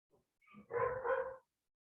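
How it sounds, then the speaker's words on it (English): A dog barks in a short burst somewhere in the background, a faint yip followed by a louder run of barks, heard alone with no talk. "The dog's going crazy in the background."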